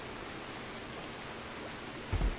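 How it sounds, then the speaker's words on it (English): Steady rain in the video game Rimworld hisses as an even, continuous wash, with a brief low thump near the end. "It's raining."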